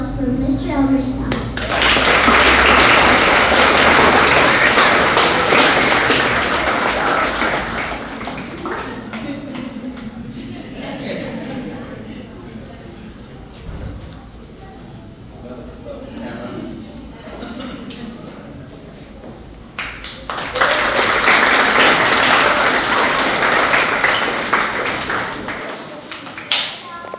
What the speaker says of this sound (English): Please give a round of applause for Mr. Elmore Stoutt.